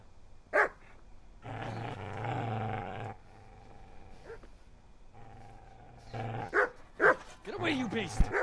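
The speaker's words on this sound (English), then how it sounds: "Now you can hear that dog barking and growling." A dog in the medieval video game Kingdom Come: Deliverance barks in sharp bursts and growls in longer rumbling stretches at moderate distance, with quieter game ambience between.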